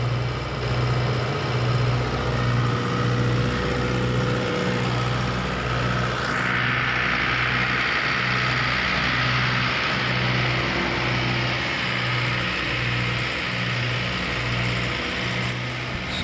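A YTO EMF 604 tractor engine drives a thresher, running steadily and loudly with a deep pulsing throb that lugs as crop is fed in, and no voices over it.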